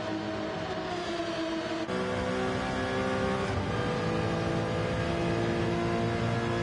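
Race car engines in the Gran Turismo 7 video game hold a steady, sustained drone with tonal harmonics and gear shifts near 2 and 3.5 seconds, loud and continuous with no talk over them.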